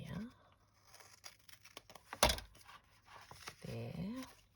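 Vintage French botanical paper being trimmed for a collage, with a few soft crinkling snips and rustles and one sharp cut close by, all quiet and without talk.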